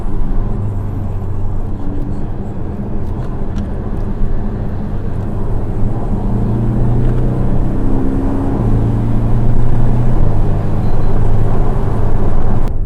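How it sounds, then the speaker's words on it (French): A Porsche 718 Boxster S convertible with a turbocharged engine, in sport mode with its PDK gearbox, accelerates hard. Its loud, close engine drone climbs in pitch through rising pulls and steady gear changes. "Ouais, les turbos soufflent bien."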